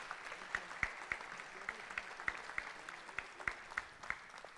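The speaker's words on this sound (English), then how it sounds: "Let's give all these kids a round of applause." Audience applause for award-winning kids at a youth recognition awards ceremony, heard as fairly faint scattered clapping with distinct individual claps spaced through the whole stretch, thin rather than a dense roar.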